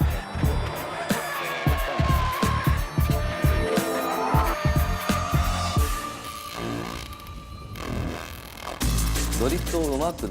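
Car drifting with tyres squealing through sustained skids, loud engine noise rising and falling, and an excited crowd faintly audible in the background.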